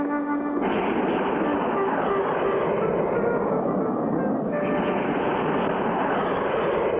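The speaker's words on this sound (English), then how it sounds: "Did you ever see such a fast jet plane, Mr. Hiram?" A cartoon jet plane racing in an air race, heard as a loud, continuous roaring rush that holds steady for several seconds, with a slight shift in tone partway through.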